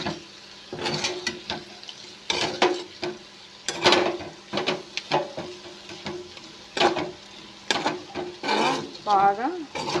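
Chili powder stirred into frying ivy gourd in a pan, repeated clattering spatula scrapes and knocks in an uneven rhythm over a low sizzle, close and fairly loud, with a brief voice near the end.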